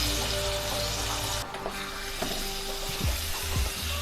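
A tempering of mustard seeds, urad and chana dal, dried red chillies, curry leaves and asafoetida frying in hot oil for onion pickle, a loud dense sizzle with a few knocks and a falling whoosh near the end.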